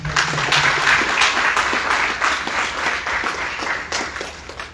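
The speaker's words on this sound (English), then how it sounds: "So I think we need a more round of applause." Audience applause at a gathering for Sierra Leone's First Lady, a steady wash of many hands clapping from start to finish with no talk over it.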